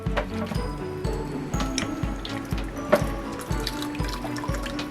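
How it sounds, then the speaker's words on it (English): A strainer scoops vegetables out of chicken bone broth in a pot, giving soft wet sloshing and squishing with a low repeating bubbling rhythm, close and moderately quiet. "we're going to take this strainer and we're going to scoop these vegetables up"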